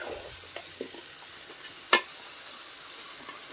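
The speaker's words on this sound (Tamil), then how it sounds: "இந்த காய்க்கு தேவையான அளவு உப்பு சேர்த்துக்கிறேன் சேர்த்து நல்லா கலந்து விட்டுருலாம்" Chopped chow chow and salt being stirred in a pan, with a soft, steady sizzle, light scraping strokes and one sharp clink of the spoon, close and quiet, with no voices.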